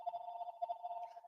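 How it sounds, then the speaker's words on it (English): A phone rings faintly with an incoming call, a steady electronic tone that pulses in a quick, even rhythm and plays alone without speech. "That's my phone beeping in."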